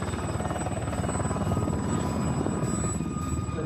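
A British Army Blue Eagles display helicopter flies close and loud, its rotor chop beating in a steady, dense rhythm throughout.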